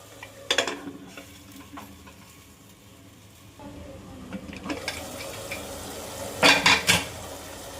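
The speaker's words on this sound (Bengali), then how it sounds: "এবার আমি ঢাকনা দিয়ে দিয়ে কিছুক্ষণ মাংসটাকে কষিয়ে নেব" Mutton is sautéed in a covered pan for a Bengali home-style mutton curry with papaya. Steady frying sizzle runs under scattered clinks of a lid and spoon against the pan, with a louder burst of metallic clatter near the end.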